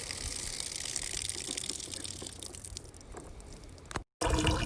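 Gravity-fed water runs steadily into a pot on a homestead during a power outage, a continuous gushing splash that cuts off abruptly near the end before resuming briefly.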